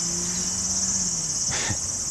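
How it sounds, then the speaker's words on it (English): Cicadas in shade trees on a summer day near Ōsaka Castle keep up a loud, continuous high buzz, with no one talking. "Sorry about the cicadas."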